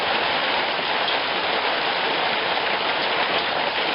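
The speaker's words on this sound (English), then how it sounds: "This particular one had hail." Hail and rain fall during a monsoon storm near Bisbee, Arizona, a dense, steady hiss of drops pelting a surface at constant loudness.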